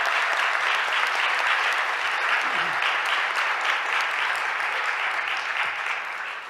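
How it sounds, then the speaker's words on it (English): Sustained applause from an audience at a city council committee hearing on gun violence, a dense, steady wash of many hands clapping at close range throughout, easing slightly at the very end. "give her a round of applause"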